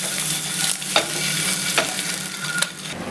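Tomatoes sizzle steadily in a pan for Pakistani aloo anday, with occasional scrapes and taps of a spoon moving them around, close up and without talk.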